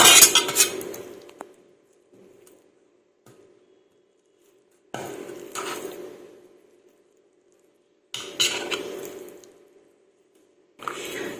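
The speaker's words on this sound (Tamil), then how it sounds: "உருளைக்கிழங்கு வேக வச்சு அதை தோல் நீக்கிடுங்க. தோல் நீக்கிட்டு இந்த மாதிரி மெஷ் பண்ணிக்கோங்க." Boiled, peeled potatoes being mashed in a bowl for pani puri filling, giving three separate bursts of soft squishing with clinking of a utensil against the bowl, quiet pauses between each burst and no talk.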